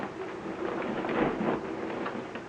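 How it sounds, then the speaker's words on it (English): Rain falling outside, a steady dense hiss with a low rumbling swell in the middle, heard alone without speech. "It's getting down with rain outside."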